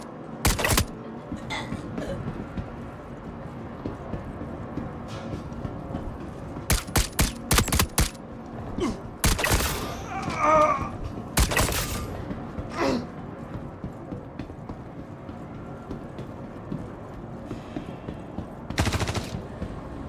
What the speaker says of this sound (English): Someone's shooting at me.